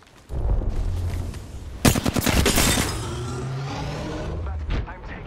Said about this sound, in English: But I'm taking fire.